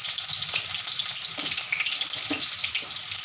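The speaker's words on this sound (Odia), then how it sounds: "ଏବେ ସେ ତେଲରେ ଆମେ ଜିରା ଦେଲି, କଞ୍ଚା ଲଙ୍କା ସେଥିରେ ମୁଁ ଦେଲି" Cumin seeds and green chilies frying in hot oil for egg chilli: a dense, bright continuous crackle and sizzle close up, with a few soft knocks of a utensil, no talk.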